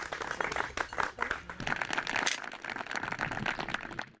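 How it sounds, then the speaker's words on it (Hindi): Audience applause for a winner of the Kisan Cup on a farmers' agriculture quiz show, a dense, steady burst of clapping that continues at fairly even loudness for about four seconds with no talking over it. "जोरदार तालियां एक बार बजा दीजिए।"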